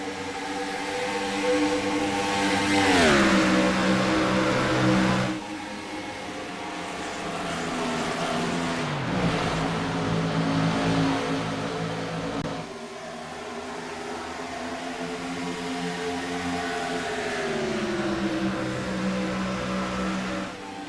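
IROC race cars lapping a Chicago track, a continuous roar of engines rising and falling as cars pass and shift, heard from a distance without any nearby voices.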